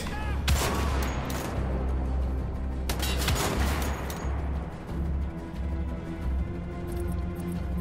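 Gunfire from the shooter game Wolfenstein: The Old Blood, with sharp bursts and rapid shots cracking in quick clusters early on, then settling into a lower rumble of game ambience.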